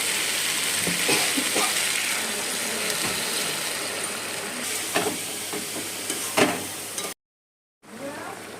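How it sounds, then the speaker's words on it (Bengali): Water is poured into spiced potatoes frying in a pan for a Bengali aar fish curry, giving a loud, continuous steamy hiss and sizzle with scraping clicks; it cuts to silence briefly near the end, then the hiss resumes. "এবারে এর মধ্যে আমি জল দিয়ে দেবো"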